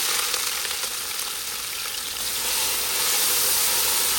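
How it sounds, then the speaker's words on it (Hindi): Onions frying in hot clarified butter (ghee) for a chicken shorba, a loud, steady, close sizzle with bright hissing that swells slightly toward the end. "अनियंस का कलर चेंज होने तक हम इसे फ्राई कर लेंगे।"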